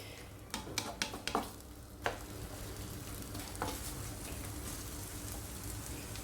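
Onions frying in a pan and being stirred, with a few sharp spoon clacks early on, then a steady close sizzle.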